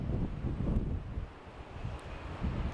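Wind gusts buffet the microphone outdoors in a steady low rumble that swells and eases.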